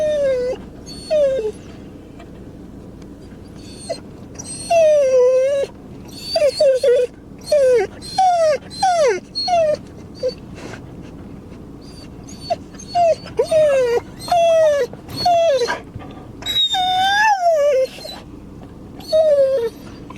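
Anxious dog crying and whimpering nonstop, high-pitched wails and whines rising and falling in repeated bursts, close and loud, with brief pauses between cries.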